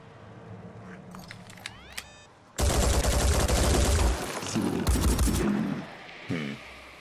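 A soldier's gunshot in the video game Phoenix Point: after a quiet stretch of clicks and interface tones, a sudden loud burst of rapid fire and impacts erupts and rumbles on for several seconds before fading.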